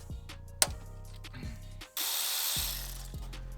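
Worn timing belt roller bearing spinning on a Lexus LS400 engine, a close, steady mechanical whir with rhythmic ticking and grinding clicks, followed by a louder, rougher rushing spin.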